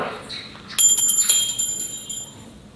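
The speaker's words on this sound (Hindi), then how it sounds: "प्रसाद चढ़ाने के बाद आपको घंटी ज़रूर बजाए।" A small hand bell rings during a Karva Chauth puja at home, a bright cluster of quick metallic strikes that rings out and fades over a couple of seconds, alone.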